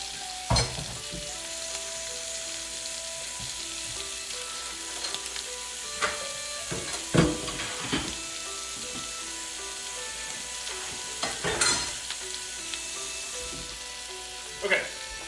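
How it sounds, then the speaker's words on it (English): Homemade sausages sizzle and fry in a pan with a steady crackle, broken by occasional louder clatters of stirring or turning, while a person talks intermittently. "I've been a little absorbed in my sausage making"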